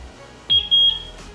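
A security camera gives two short, bright electronic beeps in quick succession after its sync button is pressed during setup, a close, clean tone against a quiet room.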